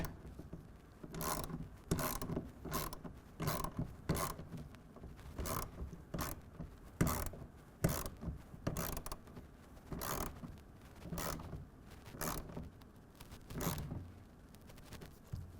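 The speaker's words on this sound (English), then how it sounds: "we're going to tighten this down to 10 foot-pounds" Ratchet wrench clicking in repeated short bursts while tightening a Gator EFX hard folding tonneau cover clamp on a 2024 Ford F-150, close and steady with brief pauses between strokes.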